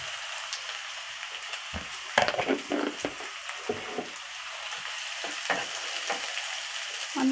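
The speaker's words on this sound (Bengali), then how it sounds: "এখন আমি পেঁয়াজ বেরেস্তাটা ভেজে নিব।" Chopped onions frying in oil for birista, a constant close sizzling hiss with a few scattered stirring scrapes and knocks against the pan.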